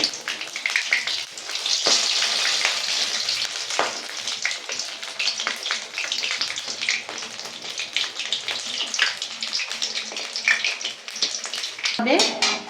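Bok phool bora fritters sizzling steadily in hot oil as they are flipped one by one, a dense continuous crackle with a few louder pops and scrapes, no talk.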